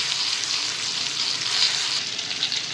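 Small green brinjals frying in a wok with a steady, dense sizzle, close and continuous, the hiss shifting slightly as the pan is shaken.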